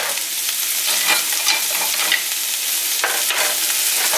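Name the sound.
white onions cooking in a saucepan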